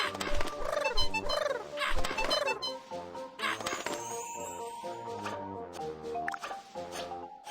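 Cartoon birds make repeated squawking, chirping calls in quick bursts, loud and close, over a busy animated soundtrack with dripping and squishy effects from a kids' firefighter rescue cartoon.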